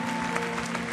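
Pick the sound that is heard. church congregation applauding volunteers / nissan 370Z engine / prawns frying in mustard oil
church congregation applauding volunteers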